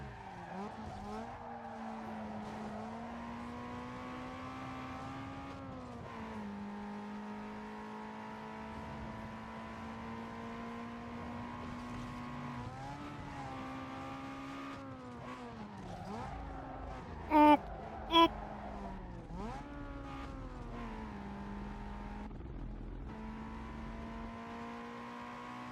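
A car in a racing video game drives at speed with a steady engine drone throughout, its pitch rising and falling through the gears, then dipping as it brakes hard into a turn, with a couple of brief sharp clicks near the end.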